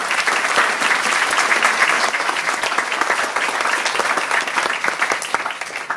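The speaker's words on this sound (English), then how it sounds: "Let's give her a round of applause." An audience at a journalism school award ceremony breaks into loud, sustained applause, a dense wash of many hands clapping that continues throughout without any speech.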